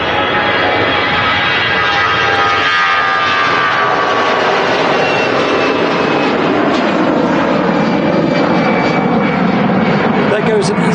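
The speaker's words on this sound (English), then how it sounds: "EasyJet off to Tenerife South Airport at A320" An EasyJet Airbus A320 jet departs Manchester Airport bound for Tenerife South, a loud, continuous broadband engine roar that holds steady throughout with a faint whining tone on top, while people talk over it.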